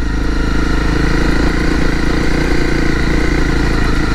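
An off-road motorcycle engine drones steadily and loudly at close range on an uneven road, a constant rumbling hum with no pauses and no voices.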